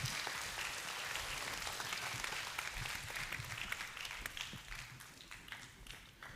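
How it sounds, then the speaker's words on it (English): Audience applause for a guest speaker at a polytechnic seminar, steady and fairly faint at first, then slowly thinning out as the clapping tapers off. "Let's give a round of applause to Miss Kwan."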